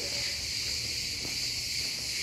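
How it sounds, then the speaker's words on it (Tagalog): Crickets chirp in a dense, continuous high-pitched drone on a mountain top, steady and fairly close, with no voices over it. "Naririnig niyo yung mga kuliglig."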